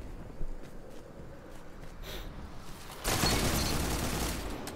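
A burst of sniper fire and loud weapon noise in Destiny 2 Trials of Osiris, rising sharply in the last seconds after quieter game ambience with faint footsteps.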